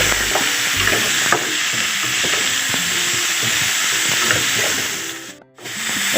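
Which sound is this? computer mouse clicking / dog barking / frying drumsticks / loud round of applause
frying drumsticks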